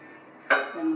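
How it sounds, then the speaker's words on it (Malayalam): A metal pan lands on the stove with a single sharp clink, followed by a short, faint ringing hum before oil goes in for cooking. "അപ്പോൾ പാൻ വെച്ചിട്ട് കുറച്ച് ഓയിൽ ഒഴിച്ച് കൊടുക്കുക കേട്ടോ."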